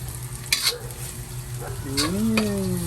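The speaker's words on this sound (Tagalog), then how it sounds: "Bigyan ko lang ng onting oil para maluto maigi ang ating dilis." Anchovies (dilis) frying in a little oil in a home kitchen pan, a steady close sizzle with a few stirring scrapes and clinks, no voices.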